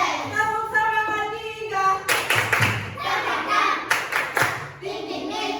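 Children clap in rhythmic group patterns for a tepuk semangat cheer, short bursts of sharp unison claps mixed with chanting and singing voices nearby.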